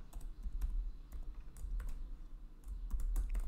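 Keystrokes on a computer keyboard while entering a console command on a Windows 11 PC, a fairly quick, uneven run of close, crisp clicks over a low steady hum, with no talking.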